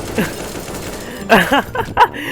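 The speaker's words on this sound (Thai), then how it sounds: "เราเอา AK47 ออกมาป้องกันตัวพวกเรากันดีกว่านะครับผม" AK47 rifle fire in the video game Teardown comes as a few short, sharp bursts of shots close together in the second half.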